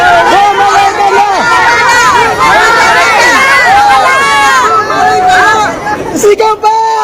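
At a political rally in Manila, a large crowd shouts and cheers continuously, a loud, dense babble of many overlapping voices with rising calls throughout.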